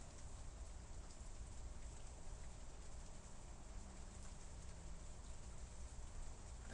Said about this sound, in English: the rain has begun to fall now